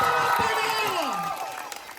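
A loud crowd at a political gathering in Batangas shouting and cheering, with rising and falling whoops over a continuous roar that eases slightly toward the end.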